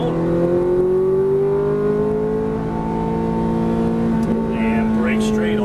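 A Ferrari F430 on a race track holds a loud, close engine note that climbs steadily under throttle, with a voice coaching over it.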